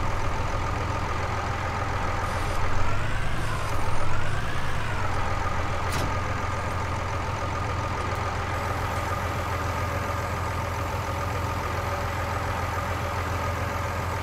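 A 169-horsepower tractor engine in a farming simulator game drones steadily at idle, with a brief swell in revs early on before settling back to an even, continuous hum.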